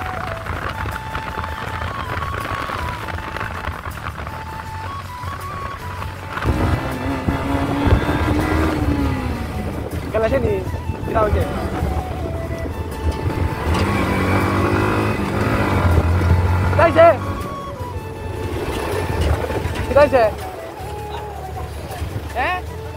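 A TVS motorcycle out on a Sunday road ride, its engine droning and rising as it accelerates, with wind rush and a voice talking over the ride.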